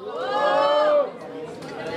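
A crowd at a regional rap battle qualifier in Londrina yells in one rising cheer for about a second, then drops to scattered chatter and hubbub.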